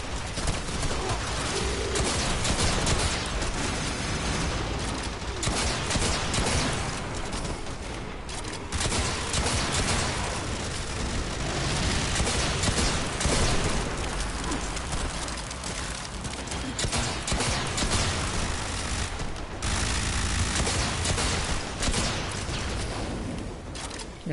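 Constant rapid gunfire crackles through dense, loud bursts and blasts in the video game Warframe, a chaotic, unbroken barrage of shots and explosions with no talking.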